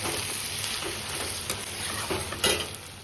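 Fish frying in oil in a pan on a home kitchen stove, a steady close sizzle with light stirring and a few sharp utensil clinks against the pan.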